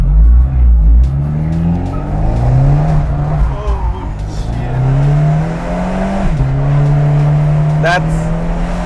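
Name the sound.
car drifting with tire squeal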